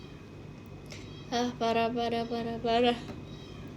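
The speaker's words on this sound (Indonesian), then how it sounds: "Itu suara kucing. Iya emang ada kucing di depan guys." A cat meowing nearby, a few drawn-out wavering meows in quick succession over a quiet indoor background, with a brief word spoken just before.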